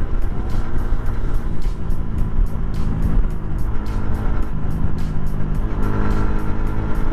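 A Suzuki Sniper 150 motorcycle engine pulls hard under throttle, a loud, close, continuous buzzing drone with rapid rhythmic pulses and no pauses.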